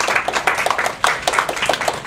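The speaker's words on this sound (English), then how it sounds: "Everybody give them a round of applause." An audience gives a warm round of applause for school staff called up on stage, a dense, steady patter of many hands clapping at once with some voices mixed in.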